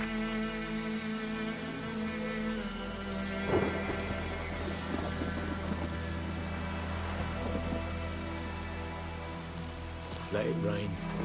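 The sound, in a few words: rain and thunder in The Witcher 3 video game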